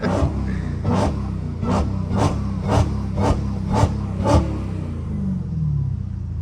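A loud Dodge Hellcat engine is blipped repeatedly, about eight sharp revs in an even rhythm over a deep idle rumble, then settling back to a steady idle.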